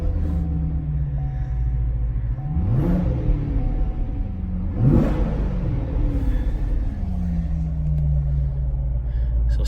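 A 2019 Chevrolet Corvette Grand Sport V8 rumbles steadily at idle, close and loud, with two brief throttle blips swelling the deep engine note before it settles back to a low, even burble.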